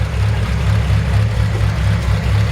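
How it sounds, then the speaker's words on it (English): A 1950 Ford F-1 panel truck engine idles close by, a steady low rumble with a faint rhythmic pulse running evenly throughout, alone with no talk. "Just listen to that engine purr."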